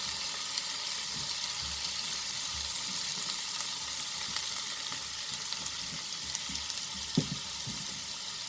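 Spices frying in a pan for baingan methi, a constant close sizzle with faint stirring and one small clink partway through.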